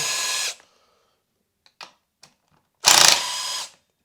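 Two short bursts of a power drill whirring up close, unscrewing bolts on a 62cc Perla Barb chainsaw, separated by a few faint metallic clicks and taps.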